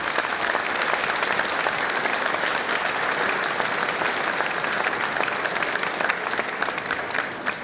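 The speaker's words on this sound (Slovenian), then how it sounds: "Zato en aplavz za vse čebelice" Sustained applause from an audience at a Slovenian beekeepers' festival, a dense, steady wash of clapping that stays loud and even throughout with no voices over it.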